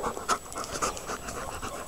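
A rescue dog panting rapidly and close by, a quick rhythmic series of breathy huffs with no other sounds.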